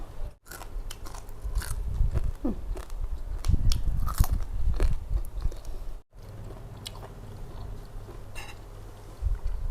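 Someone eats crunchy edible beetles (maeng kham), chewing up close with steady crunching and biting that fills the clip, paused by two short breaks.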